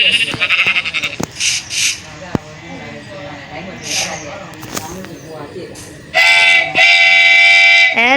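A train at a railway station rumbles and clatters beneath a busy mix of voices and bleating-like noises, then a loud, sustained horn or whistle blares near the end, with people talking throughout.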